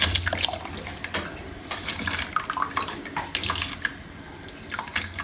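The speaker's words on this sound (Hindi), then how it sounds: "तो इनका पानी ड्रेन करके तो फिर इसमें डाल दें। मैं भी डालती हूँ आपके सामने।" Water drains from soaked rice as it is added to a pot for carrot kheer. The result is a continuous splashing, trickling wash of water with scattered drips, close and fairly loud, with no talking.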